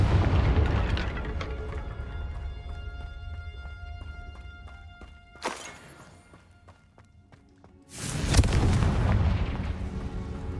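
Fire-blast spell explosions from the Hogwarts Legacy video game burst in two loud, sharp blasts with booming low rumble, the second bigger and longer, between quieter stretches of tonal game music and ambience.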